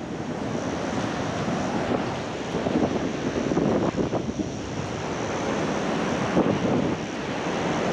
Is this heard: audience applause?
no